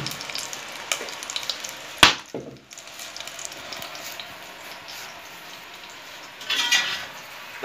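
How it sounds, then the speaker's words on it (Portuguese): An egg fries in a pan on a wood-fired stove, giving a steady, close sizzling hiss with a sharp clatter partway through and a brief louder flare near the end, with no talking. "Vou fazer um ovinho estrelado."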